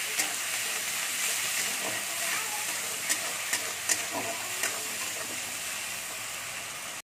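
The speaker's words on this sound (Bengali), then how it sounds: "এর মধ্যে আমি পেঁয়াজ বাটাটা দিয়ে দিচ্ছি। পেঁয়াজটা একটু ভেজে নেবো।" Onion paste fries in a pan for a Bengali-style rohu fish curry, giving a steady close sizzle and hiss with occasional stirring scrapes and small pops throughout.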